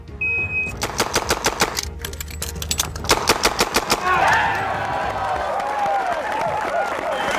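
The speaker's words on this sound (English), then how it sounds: "6 shots, a reload, and 6 more in 3 seconds with the Model 625 6-shooter using full moon clips" A Smith & Wesson Model 625 revolver loaded with full moon clips fires six rapid shots, pauses for a quick reload, then fires six more in a fast, evenly spaced, loud string, followed by a crowd cheering and clapping.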